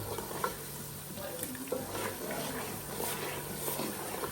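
Onions frying in a pot for stew, a steady close sizzle and crackle with occasional stirring scrapes and faint background sounds.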